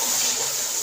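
Water pours into a pan of frying masala for fish curry, giving a continuous bright hiss and gush with no pause, close and fairly loud.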